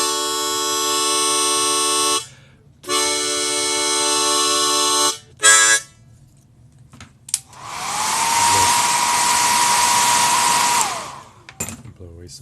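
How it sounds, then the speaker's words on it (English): After a few sustained harmonica tones, a hair dryer blows loudly for several seconds with a steady whirring rush, then cuts off. "Handy thing to have around is a hairdryer."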